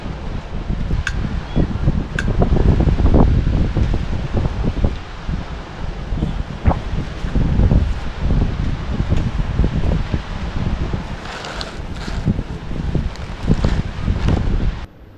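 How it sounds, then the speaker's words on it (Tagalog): Strong wind at Patungan Beach in Ternate, Cavite, buffets the microphone in a steady loud roar, with gusting rustle and occasional sharp knocks, no voices. "sobrang lakas ng hangin"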